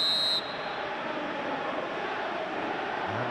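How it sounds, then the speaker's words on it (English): A referee's whistle sounds one sharp, shrill blast at the start during a Togo vs South Africa U23 Africa Cup of Nations qualifier football match, then gives way to steady crowd noise from the stadium. "And the whistle's gone, presumably for offside."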